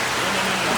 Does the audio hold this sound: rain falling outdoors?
yes